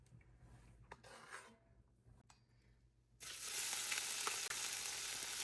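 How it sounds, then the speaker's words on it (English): Nopales cactus pads begin lightly frying in leftover oil from shrimp fritters, a soft crackling sizzle that starts abruptly after a few quiet seconds of faint handling noises and then holds steady and close. "I'm going to use some of it to lightly fry the cactus"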